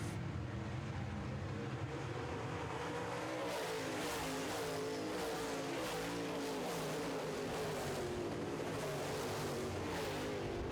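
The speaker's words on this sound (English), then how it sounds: "Great racing up front between the 48 of Gio and the 57 of Sexton. They are pulling away from the pack" Modified race cars roar around an oval track during a feature race, with engines droning loud and continuous as the pack passes and the pitch sweeps up and down over about ten seconds.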